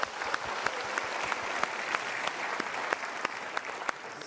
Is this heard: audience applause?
yes